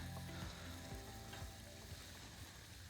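Cornflour-dusted fish fries in hot oil with a steady, dense sizzle that runs throughout, close and even, with faint stirring or scraping underneath and no talking.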